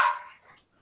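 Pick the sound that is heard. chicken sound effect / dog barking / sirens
dog barking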